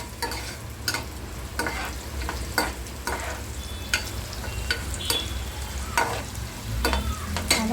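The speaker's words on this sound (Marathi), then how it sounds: "हे मी आता कांदा आणि तेल भाजायला टाकलेलं आहे" Chopped onion sizzles steadily in hot oil for a drumstick amti curry, a soft continuous crackle. A spoon clicks and scrapes against the pan now and then.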